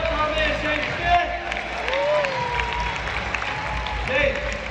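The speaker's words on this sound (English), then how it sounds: "Come on, everybody, let's clap it up for our man" Audience applause at the Life Surge 2022 event in Dallas, Texas: steady, dense clapping from a large crowd with some cheering, continuous throughout, with crowd noise and voices mixed in.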